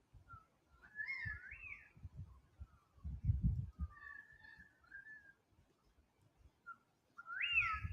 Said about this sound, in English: Those are magpies, butcher birds, and currawongs.